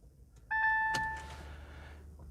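A Peugeot iOn electric car is switched on with the key, giving a single short electronic beep followed by a soft click, then a quiet cabin hum.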